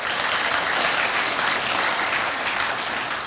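A church congregation applauds during worship, a loud, dense, even roar of many hands clapping that fills the space for a few seconds without letting up.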